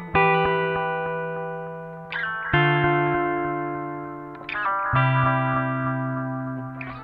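Guitar notes played through an Ibanez ADMINI analog delay pedal, three sustained notes each trailed by decaying repeats, clean and close without speech.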